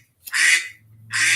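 A phone ringtone imitating a duck plays two loud, close quacking bursts separated by a brief pause, with no voices over it.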